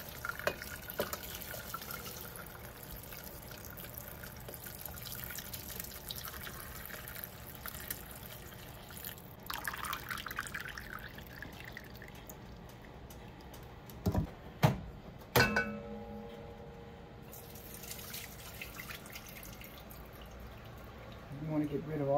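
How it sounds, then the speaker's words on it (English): Beef pho broth being strained into a pot on the stove, with a long steady trickle and splash of liquid and a few clanks of utensils, as a person talks throughout. "let's strain this juice into here"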